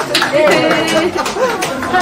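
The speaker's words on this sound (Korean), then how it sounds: "박수" Clapping and cheerful chatter fill the Oh Se-hoon campaign camp as volunteers applaud, close and lively, with voices talking over the hand claps throughout.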